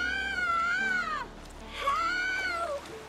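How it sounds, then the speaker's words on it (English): A child's crying illusion from the Witcher 3 video game: two drawn-out, wavering high wails, each rising and then falling away, close and fairly loud, with a short gap between them. "Hear that? Sounds like a kid."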